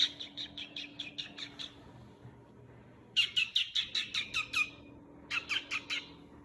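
A pet bird chirps and squawks indoors in quick repeated bursts, a rapid run of sharp calls, then a louder close series and a final short flurry over a low steady hum.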